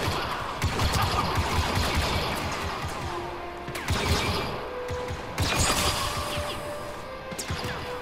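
Blaster gunfire in a Star Wars Battlefront II ground campaign battle: repeated sharp bursts of rapid shots mixed with mechanical clatter and crashing impacts, moderately loud and near, with no clear talk.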